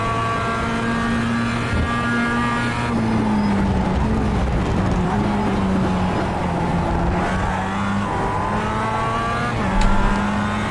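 Mazda MX-5 race car in iRacing at Laguna Seca, its engine droning steadily at high revs with shifting pitch as the car brakes and accelerates, loud and continuous, with other cars' engines layered in close behind.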